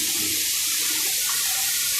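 Water from a waterfall pours steadily with a loud, continuous broadband rush and no pauses.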